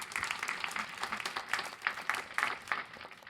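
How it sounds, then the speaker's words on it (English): Scattered applause from a small group at a jobs summit, light uneven clapping that swells in a few bursts before fading out. "I want to give you a round of applause"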